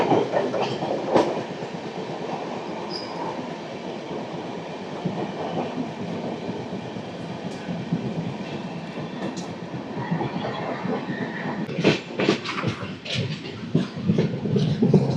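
The Golconda Express passenger train from Guntur to Secunderabad, hauled by a WAP-7 electric locomotive, rumbles steadily along the rails, with rhythmic clickety-clack wheel beats and sharp clanks growing busier toward the end, heard from on board.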